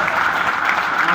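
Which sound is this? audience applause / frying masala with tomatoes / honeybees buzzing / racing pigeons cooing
audience applause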